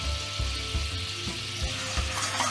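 A lavender sprig cooks in a hot pan for a quail dish, giving a steady, close frying hiss with a few soft knocks and pops throughout.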